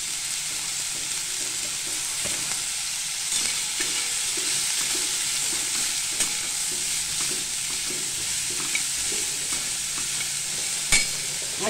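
Cluster bean sabzi (gavar bhaji) sizzles steadily while being stirred and sautéed in a pan, with occasional faint scrapes and clicks of the spoon over the frying hiss and no talking.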